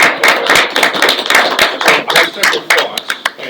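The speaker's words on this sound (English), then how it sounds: "We clap first." An audience at a conference presentation applauds with many hands clapping in a dense, steady burst that stays loud and close throughout.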